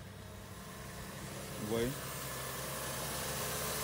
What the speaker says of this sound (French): le son du moteur est calme.